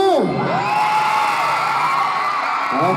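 A large crowd at a school concert in Pathum Thani, Thailand, screams and cheers loudly and continuously, high shrieks rising and falling over a dense roar of voices.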